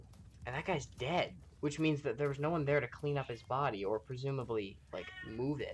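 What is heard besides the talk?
cat meowing in the background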